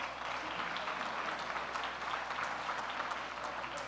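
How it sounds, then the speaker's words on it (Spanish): An audience at a Colombia 4.0 event in Barranquilla applauds to welcome a performer, a steady wash of clapping that sounds somewhat distant and moderately quiet, continuous for the whole stretch. "Un fuerte aplauso para ella, por favor"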